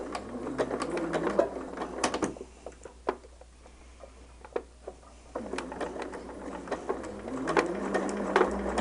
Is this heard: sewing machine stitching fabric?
yes